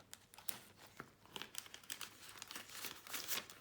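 Paper banknotes, five-euro notes for an envelope budgeting system, crinkle and rustle continuously as they are pulled out and handled, close and soft with quick crisp bursts.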